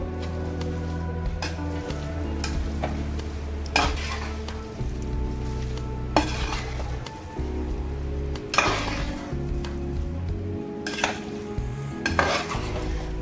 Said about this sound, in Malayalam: എന്നിട്ടൊന്ന് ഇളക്കി കൊടുക്കുക.